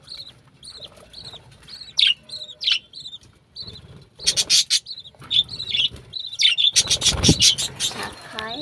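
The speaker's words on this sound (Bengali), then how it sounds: "বেবি পাখিদের খাওয়াচ্ছে।" Small colony birds chirp in quick, high repeated calls while feeding their chicks, with bursts of busy rustling and scratching nearby, close and fairly loud.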